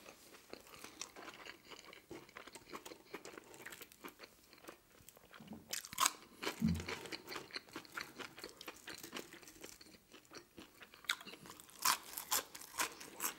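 Crunchy fries are eaten in a close-up mukbang: soft crunches and chewing come in irregular bursts, quiet and close, without talking.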